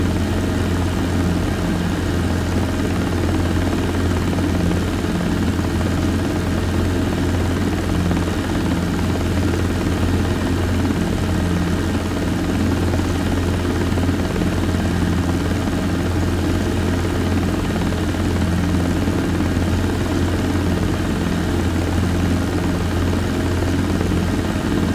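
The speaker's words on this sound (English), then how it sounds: "Do you have some information about this helicopter?" A Robinson R22 light two-seat helicopter in flight, its rotor and engine making a loud, steady, unbroken drone heard from inside the cabin for the whole stretch, with no voices.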